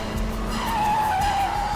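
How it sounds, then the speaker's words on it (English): In an audio drama, a car skids as it loses control, with a sustained tire squeal rising over a low engine rumble; no distinct crash impact follows in the short stretch. "thus causing the two vehicles to crash into each other"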